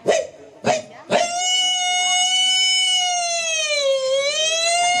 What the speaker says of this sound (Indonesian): Ambulan deh ya.